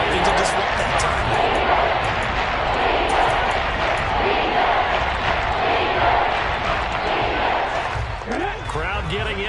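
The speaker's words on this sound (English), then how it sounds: "Crowd getting in it a bit already." Stadium crowd roaring steadily in the Madden football video game, a loud continuous wash of cheering with a brief dip and a rising whistle-like swell near the end.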